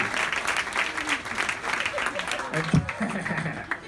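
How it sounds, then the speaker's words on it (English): Studio audience applauds a guest named Kelly at a friendly comedy chat show, a steady dense patter of clapping over the full length, with a host's voice talking over it near the end. "please give her a huge round of applause"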